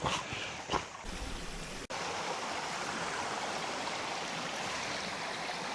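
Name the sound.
water running over a flooded track near a waterfall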